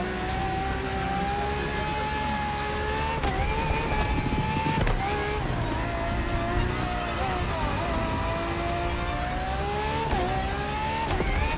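A Ferrari FXX K supercar, a lab-enhanced LaFerrari, roars at high revs in a racing game, a loud continuous engine whine rising and dipping with gear shifts, close and unbroken throughout.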